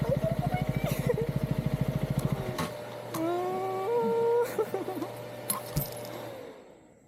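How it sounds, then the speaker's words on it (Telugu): A motorcycle stuck on rough ground near Nambi waterfalls in Chhattisgarh revs hard in a rapid, pulsing throb, then the engine drops to a lower idle. A few knocks and rattles follow, and someone talks over it. "ఇరుకుపోయింది బైక్, ఇరుకుపోయింది."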